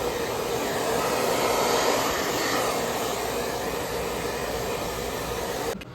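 A handheld hair dryer blows steadily and loudly on fine bob-length hair at home, a continuous whooshing roar that holds for about six seconds before cutting off abruptly at the end.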